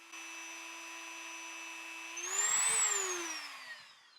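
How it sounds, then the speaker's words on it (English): A Dremel rotary tool whines at a steady high pitch, then presses against a plastic toy ring to sand it, the tone bending and growing louder with gritty grinding before easing off, close and alone. "Hit it again with the Dremel or the sandpaper."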